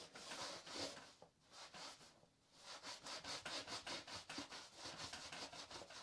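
Wax being scrubbed off a surfboard with a wax remover: steady rhythmic rubbing strokes, close and fairly loud, quickening into a fast repeated scraping pattern, with no talking.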